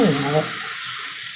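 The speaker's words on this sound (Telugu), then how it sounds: "తాలింపు వేసుకొని" Tempering spices hitting hot oil for homemade guntta pakodi made with Bombay rava, a short loud hiss that fades over about a second, with a voice briefly heard at the start.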